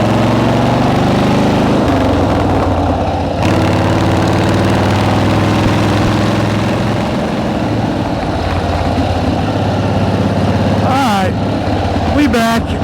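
A Harley motorcycle engine idles loud and close with an uneven, loping rumble that holds steady throughout, revving briefly near the end, with people talking over it.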